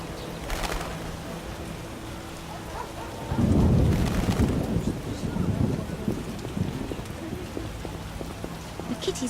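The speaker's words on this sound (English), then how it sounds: "Storm's coming." Thunder rumbles through a steady rainstorm in The Witcher, with rain pattering on surfaces throughout and a deep, rolling roll of thunder swelling midway before easing back under the rain.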